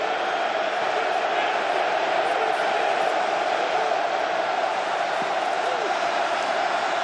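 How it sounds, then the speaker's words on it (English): A dense, continuous roar from a huge NFL playoff stadium crowd on a third down, loud and unbroken throughout, with voices blurred into the din. "Third and 8, deafening crowd"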